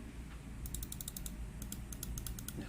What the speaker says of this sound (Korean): 클릭 소리입니다.